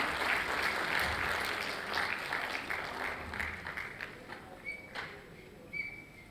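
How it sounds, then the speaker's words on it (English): Audience welcoming guests at a school annual day with broad applause, a dense roar of clapping that starts full and gradually thins and fades, with a few short whistle-like tones near the end. "Can we give a huge round of applause and a warm welcome to Pramod sir and Sunita ma'am?"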